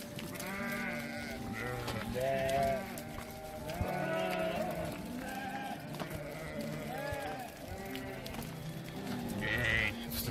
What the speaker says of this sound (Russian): Это овцы высокого класса.